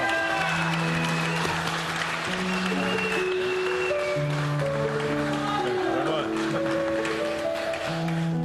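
An audience at an award presentation applauds steadily, with a dense patter of clapping under sustained musical notes and a few voices throughout.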